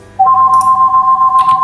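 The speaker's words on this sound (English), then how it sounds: "That is a phone call." A phone rings with a loud, close electronic tone that holds steady and pulses slightly, with faint voices in the background.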